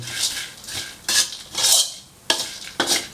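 Pork crackling chili paste being tossed and mixed in a pan over low heat, with repeated loud metallic scraping and stirring strokes in an uneven rhythm, close up and alone without talk.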